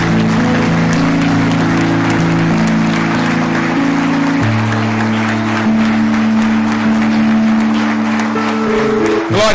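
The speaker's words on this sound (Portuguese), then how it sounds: "Você pode dar uma salva de palmas para Jesus?" A church congregation claps for Jesus, loud sustained applause from a full room over a held organ or keyboard chord that shifts pitch partway through.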